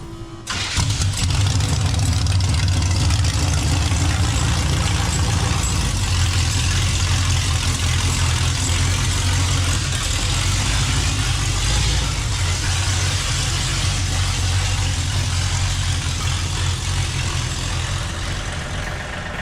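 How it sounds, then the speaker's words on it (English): A home-built car's engine starts and idles steadily while being driven out of a shop, a loud, continuous mid-pitched running sound that holds for the whole stretch after the start. "Jace gets to drive his car out of the shop"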